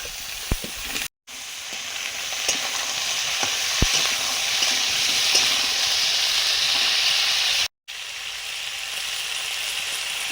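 Potatoes and onions fry in mustard oil with a steady hissing sizzle, a few spatula clicks and scrapes up close, continuous apart from two brief silent breaks.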